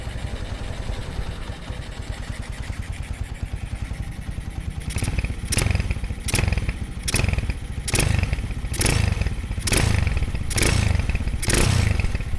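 A Honda CB motorcycle with its original GL exhaust idles smoothly and evenly up close, then settles into a regular series of short throttle blips, each a loud, crisp burst of engine noise.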